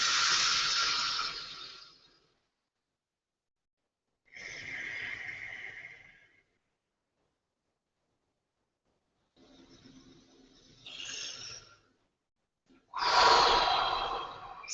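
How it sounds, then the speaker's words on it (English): Slow, deep breathing during a yoga session: long airy inhales and exhales separated by silent pauses, close and fairly soft, with no talking. "to slow down your breath. So big, long inhales."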